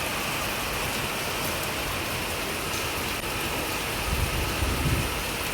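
Light rain falls steadily outdoors with a soft, even hiss of drops, continuous and fairly faint, with a slightly louder patch near the end and no voices.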